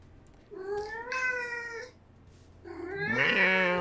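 A cat gives two drawn-out meows, the second louder and rising, close by and alone with no talking.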